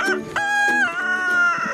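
Chickens cluck close by, with overlapping tonal calls and squawks in a short, busy stretch.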